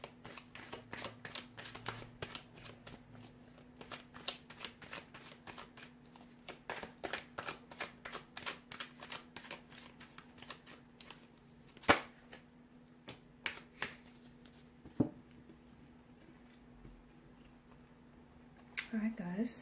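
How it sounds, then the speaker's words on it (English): Tarot cards are shuffled in repeated bursts of crisp riffling and soft slaps, close and fairly quiet, with a few sharper snaps along the way. "So we'll give the cards a shuffle here"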